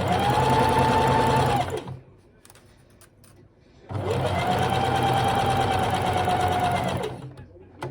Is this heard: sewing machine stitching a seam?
yes